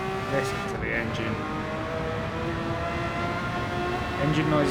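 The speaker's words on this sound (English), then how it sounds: "Listen to the engine." Car engine in Gran Turismo 7 holding a steady, droning tone with layered harmonics, close and continuous, with a voice talking over it.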